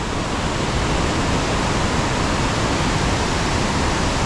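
Ohiopyle main falls roaring as a steady, loud, dense wash of falling water, unbroken and close, with no voices.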